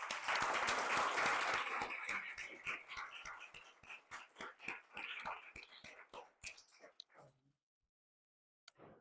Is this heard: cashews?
no